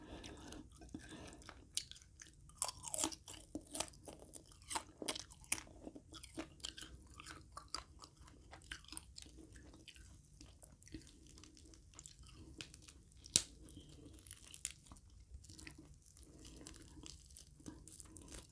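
Someone chews a crunchy fried small bird, bones and all, with close, continuous crunching, biting and crackling bites over a quiet background.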